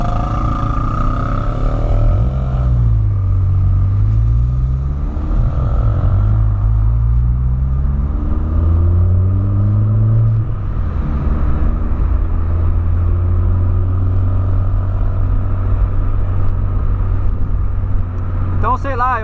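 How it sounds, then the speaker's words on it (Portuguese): A Volkswagen Polo fitted with a new exhaust rumbles and revs in rising and falling sweeps, with faint pops from the tailpipe, while someone talks over the engine throughout. "Consegue pegar aí aquele tirinho que dá no escape."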